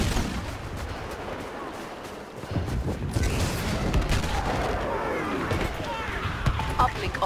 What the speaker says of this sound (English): we're about to have to shoot that ATST